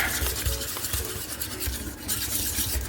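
Flour sauce for lasagna being stirred in a pot, a steady scraping and swishing that carries on throughout, close and fairly loud with no talk over it.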